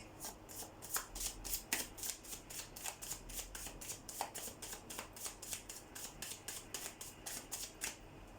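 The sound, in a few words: shuffling a Teach Me How to Love card deck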